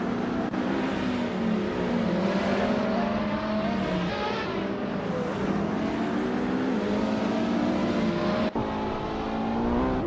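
A 1995 McLaren F1 GTR racing car engine howls continuously, rising and falling as it accelerates through the gears, loud and close with no speech.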